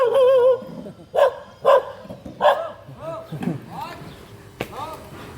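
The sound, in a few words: dog barking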